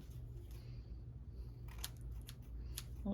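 Scissors trimming paper for a junk-journal pen loop, a few quiet crisp snips scattered over faint background hum, close and soft.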